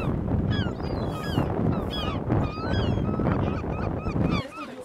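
Gulls gather and call on the coast, a busy flock of overlapping squawks and cries close by over wind and murmuring background.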